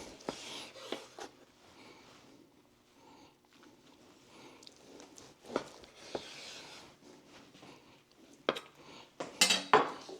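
A knife slices picanha into thick steaks on a cutting board, with scattered close scraping cuts and knocks that grow louder toward the end.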